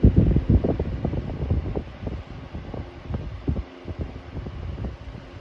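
Antique General Electric 12-inch AOU two-star table fan running on its medium setting, a close, steady low whirring hum with rhythmic throbbing pulses and some buffeting, alone.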